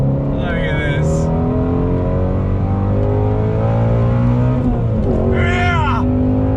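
A 2020 Shelby GT350R's engine drones steadily as the driver heel-toe downshifts into a left-hand bend, with a quick blip that shifts the pitch, heard under an excited voice talking from inside the car.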